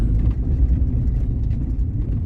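A car driving over a rough, badly worn small-town road gives a loud, low rumbling drone with uneven bumps and faint rattles from a loose front end, continuous and close.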